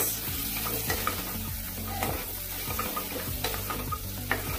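Naga-style pork with dry bamboo shoots and chili paste being stirred in a pan, with steady scraping and frying noise under repeated stirring strokes, close and continuous.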